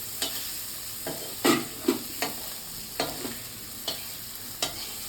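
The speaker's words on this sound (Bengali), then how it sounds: "আর একটু পাঁপড় ভেজে দেবো।" Papad (poppadom) frying in a pan for a home-cooked delivery order: a steady oil sizzle with a series of brief scraping and stirring bursts spaced irregularly over several seconds, close up and without talk.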